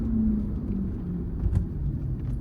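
Hyundai Getz 1.5 CRDi VGT diesel car cruising in fourth gear at low revs: a steady low engine drone and road rumble inside the cabin, even and continuous with no talk.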